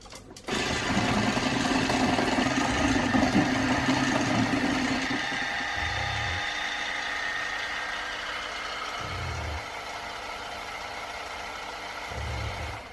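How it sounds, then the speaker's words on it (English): Electric mixer whirring steadily through vanilla loaf batter for several seconds, close and even, with low thumps recurring as the beaters knock the bowl. "now I'm going to mix one final time for good luck"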